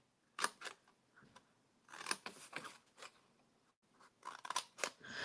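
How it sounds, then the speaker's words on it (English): Scissors snip through card along a score mark while a Halloween treat holder is assembled, several crisp cuts in short bursts separated by brief pauses, close and fairly quiet with no talking. "I'm just going to cut on both sides of the score mark."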